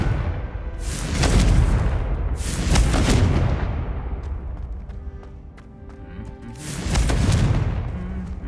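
Confringo blasting spell in Hogwarts Legacy, three heavy booming explosions spaced a few seconds apart, loud and close, each with a rumbling decay and a faint musical hum between blasts.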